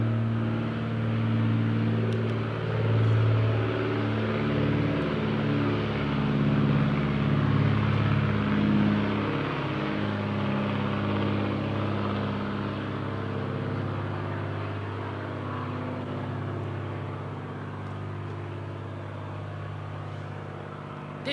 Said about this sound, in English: You're going to have a lot of aeroplanes overhead and trains going by.